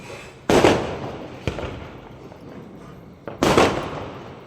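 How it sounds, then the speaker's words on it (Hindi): Diwali firecrackers and fireworks burst outside in three sharp, loud bangs spaced about a second or two apart, each trailing off into a crackling wash, with no talking. "पटाखों की आवाज़ तो आपको आ रही होगी"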